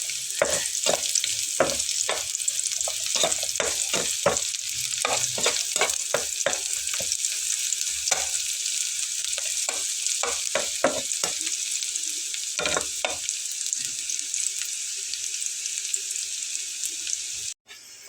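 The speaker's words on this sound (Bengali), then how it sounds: "পেঁয়াজ আর রসুনটা একসঙ্গে ভেজে নেব।" Onion and garlic fry in hot oil with a steady, loud sizzle lasting nearly the whole time, broken by repeated clinks and scrapes of a stirring spoon, then it cuts off abruptly at the end.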